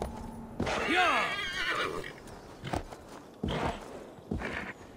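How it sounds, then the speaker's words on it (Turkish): Glitchy horse neighing in Assassin's Creed Valhalla, a distorted whinny with wavering pitch sweeps, followed by a few clip-clop hoof thuds and short bursts. Loud and close, with no talk. "Atın sesleri bug'a girdi,"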